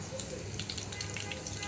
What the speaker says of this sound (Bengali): আমি বাকিগুলো ভেজে নেব